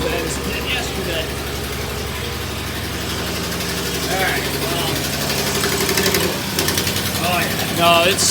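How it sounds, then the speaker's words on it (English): A cheap Jeep engine with a dead, sparkless cylinder idles roughly nearby, a loud uneven, tractor-like chugging with knocking, while someone talks briefly over it. "We can hear it idle like a tractor."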